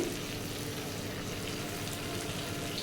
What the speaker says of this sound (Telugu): ఫ్రై అయ్యే వరకు కూడా ఇలాగే సిమ్లో పెట్టి ఫ్రై చేయండి ముక్కలు